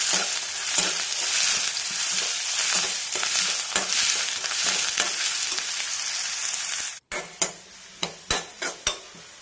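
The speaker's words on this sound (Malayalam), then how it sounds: "നമ്മുടെ അരിഞ്ഞു വെച്ചിരിക്കുന്ന ഇഞ്ചി ഒന്ന് വറുത്തെടുക്കും" Steady crackling sizzle of chopped ginger frying in oil, close and continuous, then a pause followed by a few sharp clinks of a utensil against the pan.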